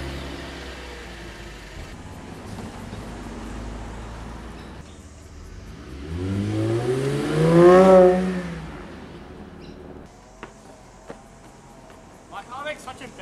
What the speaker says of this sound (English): My car makes such a better noise when it's cold